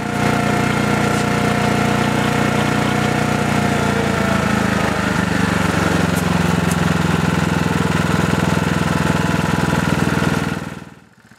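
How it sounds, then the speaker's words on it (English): A Briggs & Stratton Q6500 QuietPower inverter generator runs in its reduced-RPM quiet mode, giving a steady, even engine drone for about ten seconds before it fades out. "I turned on the QPT switch and the engine RPM and noise reduced significantly."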